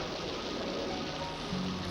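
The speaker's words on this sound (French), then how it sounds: "La pluie est là et tu peux pas la faire cesser." Steady rain falling outdoors in the French-dubbed animated series Simba, the Lion King, a dense continuous hiss with no breaks, fairly close and even throughout.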